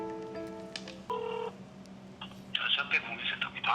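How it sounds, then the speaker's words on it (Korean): Phone call being placed from Korea to a driver support center: a quick run of DTMF dial tones, then a steady ringback tone, followed by a brighter, busier burst that sounds like the line connecting, all fairly close and clear. "제가 인성에서 한번 전화해서 확인을 좀 해볼게요"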